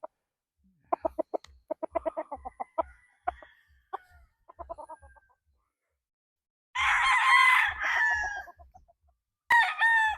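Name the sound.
gamefowl rooster crowing, Gary Gilliam Roundhead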